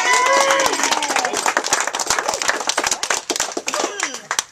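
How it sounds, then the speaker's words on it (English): Lively audience applause at a maker camp meeting, dense clapping with cheers and whoops from a close crowd, loud at first and thinning out toward the end. "So big round of applause for Kilovolt."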